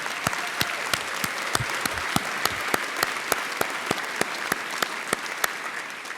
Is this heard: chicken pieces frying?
no